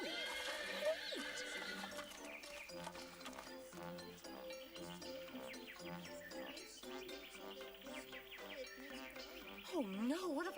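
A horse neighing and hooves clip-clopping in an animated Cinderella episode, set against a busy musical score, with a shrill whinny standing out near the end and rhythmic hoofbeats in between.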